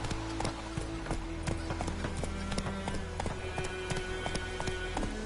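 Horse hooves gallop in The Witcher 3, a steady rapid clip-clop running under game music and a rider's calls, close and continuous throughout.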